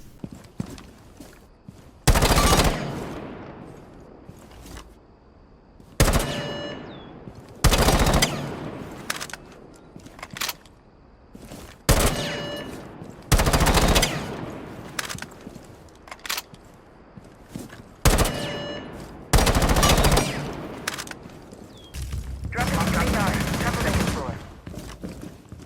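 Gunfire in the video game Rainbow Six Siege, played as Fuze: roughly eight sharp, loud bursts of automatic fire spaced a few seconds apart, separated by quieter in-game background sound.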